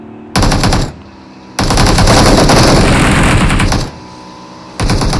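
An M249 machine gun in a video game fires three loud, rapid bursts: a short one, then a long sustained stream of shots, then a brief final burst after a pause.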